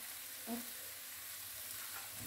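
Melted mozzarella cheese sauce for tortillas being stirred in a pan, a faint, soft, steady scraping with a slight bump near the start and no voices.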